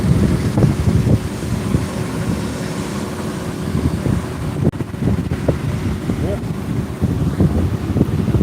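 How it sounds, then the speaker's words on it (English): Strong wind buffets an outdoor microphone on a railing, a steady, loud rumbling roar with gusty thumps throughout. "A lot of wind."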